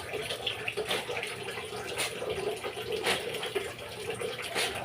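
Water splashes and pours in irregular bursts, with sloshing and scrubbing sounds close by, as if laundry is being washed by hand.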